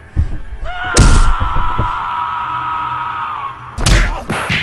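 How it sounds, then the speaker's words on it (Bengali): A sharp, heavy thwack of a stick striking a head lands, followed by a lingering ringing tone, then another hard impact near the end. "এই বলে তার মাথায় মারল লাঠির বাড়ি"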